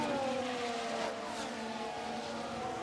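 F1 cars in the F1 Manager 2023 racing game roar past together, engines whining with rising and falling pitch as they battle for position, heard fairly faintly without talk.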